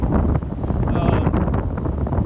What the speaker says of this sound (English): So it's like super windy day.